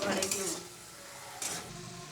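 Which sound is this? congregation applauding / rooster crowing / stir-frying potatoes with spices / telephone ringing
stir-frying potatoes with spices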